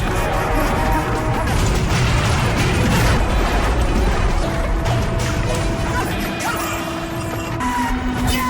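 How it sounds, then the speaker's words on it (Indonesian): A loud, sustained crashing roar of an explosion with smashing debris, settling into rumbling noise and faint tones. "Saking kuatnya ledakan itu, sampai membuat ruangan Raja Duka yang ada di atas menjadi hancur lebur."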